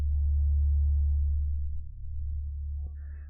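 A steady low sine tone plays at high volume as a loud continuous hum, with a faint higher warble near the end and nothing else heard.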